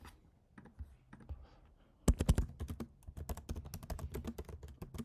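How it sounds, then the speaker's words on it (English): Typing on a computer keyboard, first sparse and soft, then a quicker, denser run of sharp key clicks close up with no voices. "Sorry for the typing."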